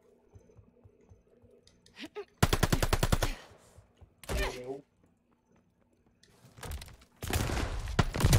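Rapid automatic gunfire from incendiary rounds in a first-person shooter, rattling in three loud bursts separated by quieter clicks and a short thud, with faint voices in between.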